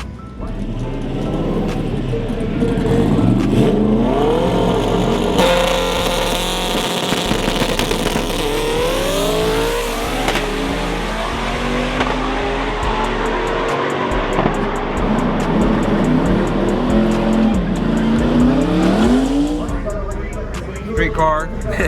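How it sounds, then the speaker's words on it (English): Loud, close stick-shift drag-racing street car with a T56 transmission carrying a PPG gear set, advanced clutch and slipper clutch, its engine revving and rising through gears steadily for about twenty seconds while people talk over it. "Streetcar, stick shift streetcar we run. Big time streetcar."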